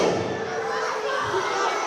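Capacity crowd at a wrestling show in Port St. Lucie, a dense wash of cheering and shouting voices filling the hall, loud and sustained throughout.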